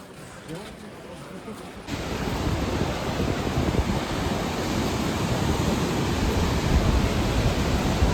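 A mountain river at Badrinath rushes in a broad, steady roar that swells in after a quieter opening and holds loud and continuous, with wind buffeting the microphone and no speech.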